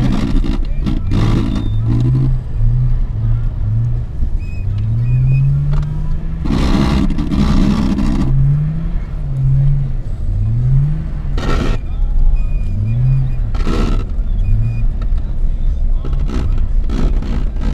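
A car slides sideways through a drift on a winter track, its engine droning and revving steadily, with sharp bursts of wheelspin or snow spray breaking in at intervals; someone talks over it throughout.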